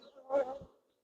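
Honeybees buzz as they are put into nucs, a short, faint, low hum that swells and fades over about a second.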